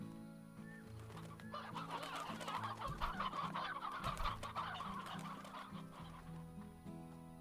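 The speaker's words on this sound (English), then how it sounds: "We can go drop these chickens off real quick." Chickens in the Slime Rancher video game cluck steadily in a busy flock, a continuous layered chatter of short clucks over a droning game soundtrack, with no talking.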